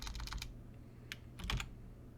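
Quick bursts of computer keyboard typing as an address is entered in a property game, a short flurry of soft clicks, a pause, then another cluster of keystrokes, close and quiet.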